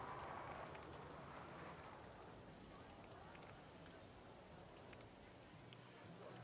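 Rain ambience in the video game RollerCoaster Tycoon 2: a steady, dense hiss of rainfall that stays level throughout, with no voice over it.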